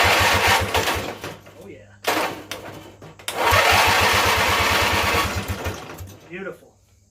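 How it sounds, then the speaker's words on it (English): A small two-cylinder engine cranks on its starter in short rhythmic pulses, pauses, cranks again, then catches and runs loud and steady up close before cutting off; a voice speaks briefly near the end. "I want to see if it'll turn over. Alright, let's see if we got starter"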